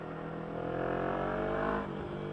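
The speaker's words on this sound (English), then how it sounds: "Love having a full race exhaust." A motorcycle with a full race exhaust accelerates close by, its engine note climbing steadily before dropping off sharply, with no voices.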